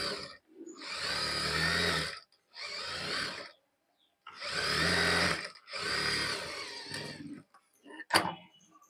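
A sewing machine runs in several bursts while double stitching the back of a dress, each run lasting about a second, separated by short pauses, close and fairly loud.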